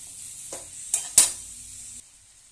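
Boiled jackfruit and potato with duck egg are stir-fried in a pan, a few sharp scrapes and sizzling bursts from a spatula, then quieting to a faint low hiss.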